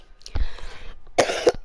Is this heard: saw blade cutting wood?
no